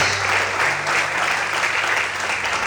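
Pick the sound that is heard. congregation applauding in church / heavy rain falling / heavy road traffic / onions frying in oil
congregation applauding in church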